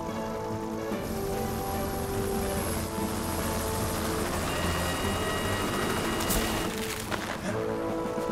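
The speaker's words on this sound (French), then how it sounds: "Mais on va avoir besoin du renfort de l'hélicoptère." Rescue helicopter in a Fireman Sam children's cartoon: a constant, loud rotor and engine roar fills the scene, with a brief sharper burst of noise near the end.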